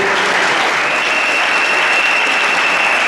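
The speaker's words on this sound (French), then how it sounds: "Je cite le pasteur Claver Pébé. Sous vos acclamations, s'il vous plaît." Sustained loud applause and cheering fill a wedding dinner hall in Congo-Brazzaville as a crowd welcomes Pastor Claver Pébé, a dense steady wash of clapping with no pauses.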